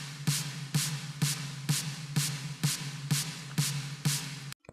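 A Function Loops snare sample played in one-shot mode in Phalanx, giving nine evenly spaced snare hits that each ring out fully over a low steady hum, close and moderate in level, then cutting off abruptly.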